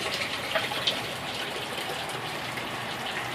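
A sump pump in a backyard aquaponic system pushes water up a pipe, giving a steady, loud rushing gush with no pauses and no voices.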